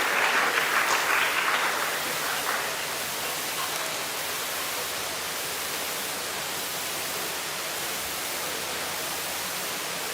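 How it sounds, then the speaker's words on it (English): Audience applause after a memorial lecture on architecture, a dense wash of clapping that is loudest in the first two seconds and then settles into a steady, fainter patter with no voices. "Please give a big round of applause to the talk."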